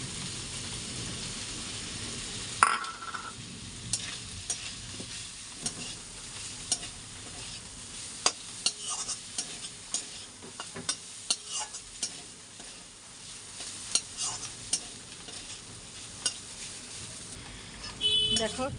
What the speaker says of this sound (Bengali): এবার নারকেলটা দিয়ে দিই এর মধ্যে